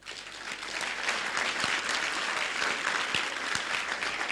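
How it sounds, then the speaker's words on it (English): Church audience clapping during a sermon: a steady wash of many hands applauding together, moderately distant and fairly faint, with a few sharper individual claps. "Clap before I say it."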